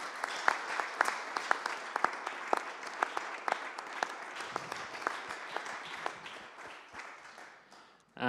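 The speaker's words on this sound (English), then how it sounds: "a big hand of applause for all of our panelists online" Scattered audience applause for conference panelists, fairly faint and distant, with individual sharp claps standing out from a thin background of clapping that tapers off near the end.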